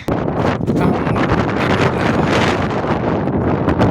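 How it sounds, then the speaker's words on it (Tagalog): Strong wind at Kiama on the New South Wales south coast buffets the microphone in a steady, loud roar with gusty rumbling throughout, no voices. "Lakas ng hangin."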